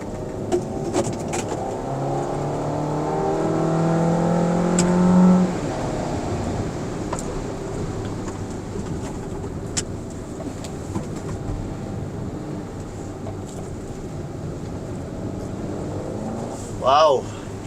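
A 2024 Suzuki Ertiga Hybrid on a test drive, with a steady car and road rumble and tyre hiss on a wet surface running throughout, and a voice talking over it.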